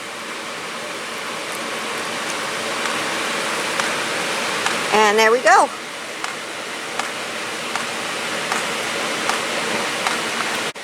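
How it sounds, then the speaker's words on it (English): Steady splashing of water poured onto potting soil around eucalyptus seedlings in pots, a continuous wash lasting the whole clip, with a brief remark and a short rattle midway. "I want to water these till water runs out the bottom"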